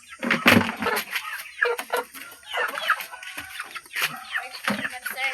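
Chickens clucking close by in a series of short, uneven bursts and squawks, with brief pauses between calls and a faint background.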